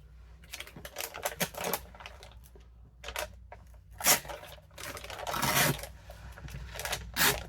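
Thin paper torn along a ruler for a vintage Christmas junk journal, heard as short bursts of ripping and scraping with quiet gaps between, close and fairly faint.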